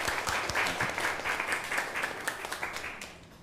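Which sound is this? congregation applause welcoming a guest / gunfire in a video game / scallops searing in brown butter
congregation applause welcoming a guest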